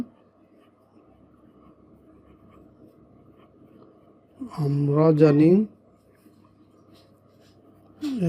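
Pen or pencil writing on paper during a class 3 maths lesson: faint, steady scratching in a quiet room, briefly broken by a short spoken phrase and a voice starting again at the end.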